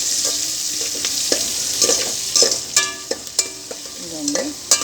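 Onions and green chillies frying in oil as they are stirred, a bright hiss of sizzling under repeated clinks and scrapes of a utensil against the pan, close and clear.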